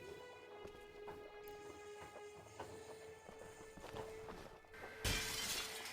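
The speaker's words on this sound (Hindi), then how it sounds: "वो टीवी के ग्लास को हम तोड़ते हैं" TV glass smashed in The Walking Dead video game: a series of faint cracking knocks over a tonal background hum, then a sudden louder burst of shattering glass near the end, with no speech.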